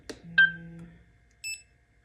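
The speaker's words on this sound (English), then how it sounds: "you hear the beep, and then now you can see the counter, it's recording" An Insta360 GO 3S action camera gives short electronic beeps as recording starts, preceded by a faint click and hum, quiet and close with no talk.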